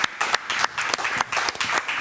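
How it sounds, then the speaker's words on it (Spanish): Studio audience applause welcoming an anthropologist guest, a small group clapping in uneven bursts with brief gaps, close and moderately loud. "Le damos un aplauso."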